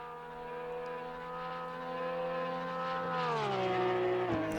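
Porsche 911 GT3R race car in Assetto Corsa Competizione at Barcelona, a smooth sustained engine tone rising steadily before a quick drop near the end, fairly quiet.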